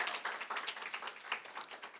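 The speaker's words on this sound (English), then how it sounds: "Give them a round of applause as well." Short, faint round of audience clapping for high school coaches at a poetry recitation event, a small crowd's scattered quick claps heard from a distance.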